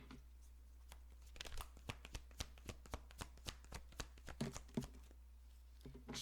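Tarot cards being shuffled and drawn by hand: a quiet, rapid run of crisp riffling snaps and flicks in an uneven rhythm, with a steady low hum underneath and no talking.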